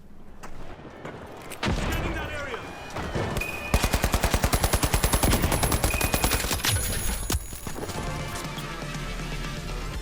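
Rapid automatic gunfire in The Finals video game, a loud sustained burst of evenly spaced shots held under recoil control, followed by trailing game noise.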